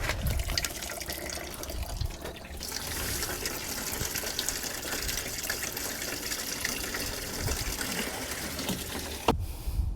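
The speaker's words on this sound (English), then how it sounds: "With a garden hose hooked up to where the coolant reservoir goes, I'm just pushing some water and I'm just gonna flush it out" Garden hose pushing water through a car's coolant system at the reservoir opening, a steady close rush and gush of flowing water lasting throughout, ending with a brief knock.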